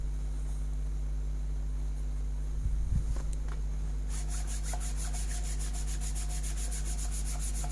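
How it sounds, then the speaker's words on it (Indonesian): Wood gets hand-sanded with 400 grit sandpaper during a Duco finishing job, a brief soft rubbing scrape under steady background hum, followed by a faint high whirring. "kita amplas lagi dengan amplas 400"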